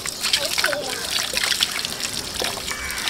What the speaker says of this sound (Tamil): அதுக்கப்புறம் நல்லா சோப்பு போட்டு கை கழுவிடும்.